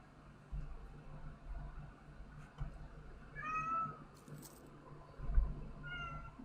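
A cat meows and whines in a few short, faint, high-pitched cries close by, over a low steady hum and soft rustling.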